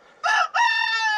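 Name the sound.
rooster crowing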